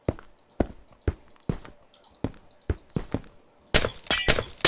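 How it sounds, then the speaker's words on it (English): Glass blocks are placed one after another in Minecraft 1.4.2, each giving a crisp, short thunk at a steady pace. The sequence ends in a flurry of bright, shattering glass-break bursts, with no talking. "when you place glass on anything, it goes like this"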